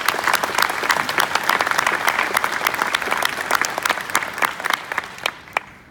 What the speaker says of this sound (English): I'd love to give her a round of applause.